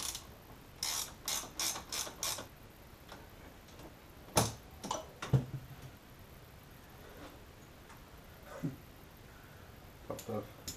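Close ratchet clicks come in a quick burst of about six clicks, then scattered single clicks and a few more near the end, as a bolt is turned on a Subaru Forester during power steering work.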